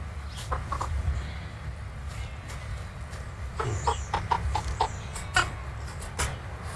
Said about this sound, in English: I don't think I've ever seen a person just grab a chicken like that,